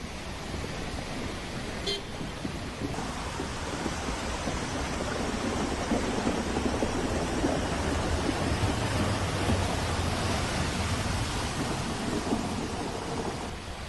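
Heavy monsoon rain pours continuously in Dakshina Kannada, a dense steady roar of downpour on a flooded road, with faint traffic noise underneath.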